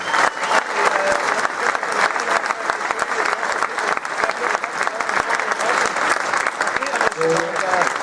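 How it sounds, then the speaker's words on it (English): Crowd at a boxing press conference in Belfast breaks into loud, sustained applause, dense clapping with scattered sharp claps and occasional cheers rising above it. "please give yourselves a fantastic round of applause"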